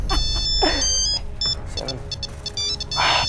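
A mobile phone rings with a repeated electronic beeping tone in short regular bursts, fairly close, while a man mutters a brief exclamation between the rings.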